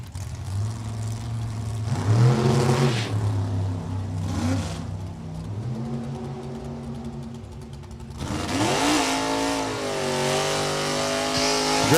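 A big-block Corvette Roadster drag car competing in Supergas at a New England dragstrip, its engine loud and close, holding a steady rumble, then revving and roaring hard in a rising surge of acceleration.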